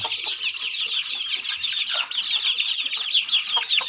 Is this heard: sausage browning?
no